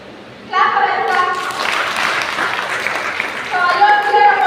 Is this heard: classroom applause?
yes